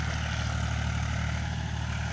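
A Mahindra 265 tractor pulling a cultivator at full depth gives a steady, even engine drone with a low hum throughout. The sound stays constant with no talking.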